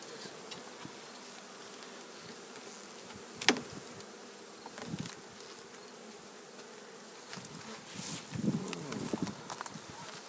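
Honey bees buzzing around a brood frame pulled from a hive, a steady close drone of many insects with louder passes from individual bees, and faint talk now and then.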